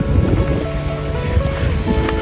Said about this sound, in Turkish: Şelalenin suyun sesini duyuyorsunuzdur.